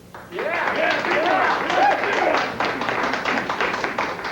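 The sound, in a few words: studio audience applause voting for number 2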